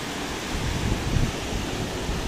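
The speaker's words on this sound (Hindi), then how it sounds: "बहुत ज़्यादा शोर भी हो रहा है वाटर का" Floodwater of the swollen Mand river in Raigarh, Chhattisgarh rushes past in a dense, loud, steady roar with no break or voices.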